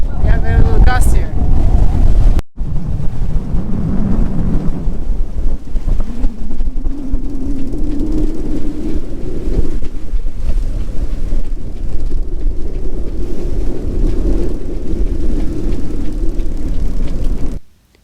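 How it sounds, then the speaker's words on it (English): A strong wind gust hits a sailboat at sea off Croatia, a loud roaring rush of wind buffeting the microphone that holds steady for many seconds, with a voice calling out briefly at the start. "Whoa! We have a little gust here."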